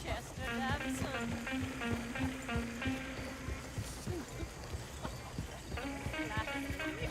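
Steady clip-clopping hooves of a horse-drawn coach in the Red Dead Redemption 2 game, a continuous rolling trot with wheel rattle and a faint whinny, voices talking over it at times.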